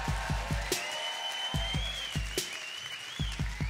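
Audience at a live set at Haldern Pop Festival 2019 applauding band members being introduced, bursts of claps and cheers alongside rhythmic low drum hits, moderately loud and continuous throughout.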